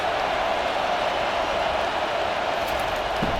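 Steady, dense roar of a stadium crowd at a Florida vs. Auburn college football game, a continuous wash of distant cheering and noise with no distinct voices standing out.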